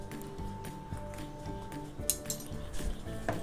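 Spoon scraping and clinking against a bowl while mashed cheesy potatoes are mixed with oregano, chili flakes and chaat masala: a steady run of close, light metallic taps and scrapes.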